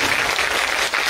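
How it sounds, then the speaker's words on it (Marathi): A short burst of loud, dense applause at a Women's Day celebration, a room full of people clapping hard for four women, close and continuous with no voices over it. "त्यामुळे त्या चौघींसाठी जोरदार टाळ्या होऊन जातात"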